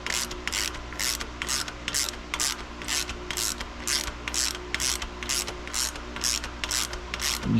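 Ratchet compressing dual valve springs on a C5 Corvette cam swap, a close run of about fifteen evenly spaced clicking strokes in a steady rhythm.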